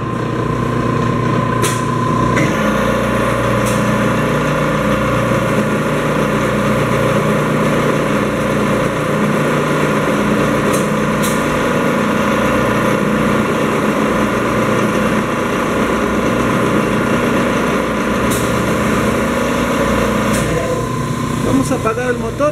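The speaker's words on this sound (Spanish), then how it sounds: "Vamos a encender el motor." The electric motor of a can seaming machine runs continuously, a steady mechanical hum and whir with faint periodic clicks, close and loud for over twenty seconds before it begins to wind down at the end.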